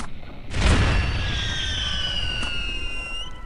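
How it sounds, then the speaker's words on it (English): Rockets fired from an airship in the video game Air Buccaneers: one loud booming launch burst, followed by a long whooshing, whistling trail and a smaller pop near the end. "Load rockets! Fire!"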